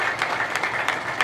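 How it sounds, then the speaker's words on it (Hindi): Applause from a village gathering in Jhajjar honouring newly commissioned lieutenants, a steady wash of many hands clapping at moderate distance, continuous and even throughout. "एक बार जोरदार तालियां साहिल के लिए, लेफ्टिनेंट साहिल,"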